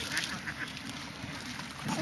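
Several ducks quack and honk intermittently amid a noisy outdoor background, calls scattered and moderately faint.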